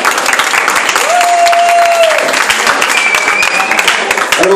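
Crowd clapping for candidate number 1 at the Miss Prestige Réunion beauty pageant, a continuous roll of applause with a few held tones and scattered voices mixed in.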